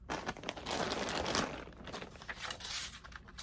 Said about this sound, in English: So I'm going to cut down my material.